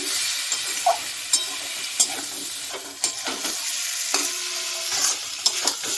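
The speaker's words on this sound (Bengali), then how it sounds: "ভেজে রাখা পটল এটা একটু কষিয়ে নেব" Pre-fried pointed gourd (potol) is stir-fried in a thick spice masala with a little sugar, with a moderate sizzle and a recurring rhythm of spatula scrapes and taps against the pan.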